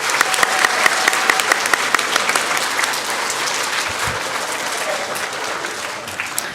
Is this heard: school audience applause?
yes